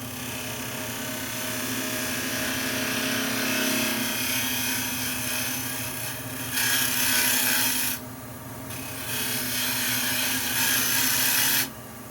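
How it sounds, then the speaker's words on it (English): A spindle gouge cuts across a spinning wood tenon on a lathe with a steady motor hum and a bright, hissing scrape. The cutting sound swells in several loud passes, with a short break around the middle, and no talk. "I'll just use a little spindle gouge quick, clean it up a little bit."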